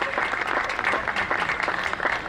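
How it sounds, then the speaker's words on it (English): An outdoor crowd at a Canada Day and Golden Spike Days celebration in Rocky Point Park applauds steadily. The dense, even clapping holds throughout the short stretch. "One more round of applause for all the speakers, performers, and platform guests today"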